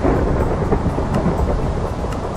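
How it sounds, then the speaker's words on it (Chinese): Minecraft rain and thunder form a dense, loud, continuous rumbling wash of rainfall with low thunder rolling underneath, steady for the whole stretch with no talking. "原来是下雨。"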